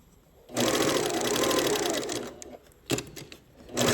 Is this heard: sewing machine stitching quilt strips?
yes